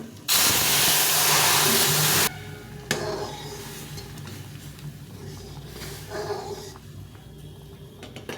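Lentil dal hits a hot pan with a loud burst of steaming hiss that lasts about two seconds and stops abruptly, followed by a softer ongoing bubbling sizzle with a few knocks.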